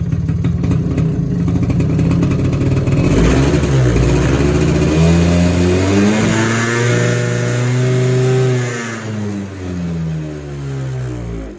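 A small two-stroke engine on a four-wheeler ATV revs loudly and close, its pitch climbing and falling through several throttle swells before easing back toward idle.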